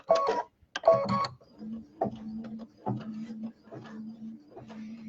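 An embroidery machine stitching straight black lines on a quilt block, sounding as a close, rhythmic mechanical whirring and ticking in short repeated bursts, with someone talking at the start.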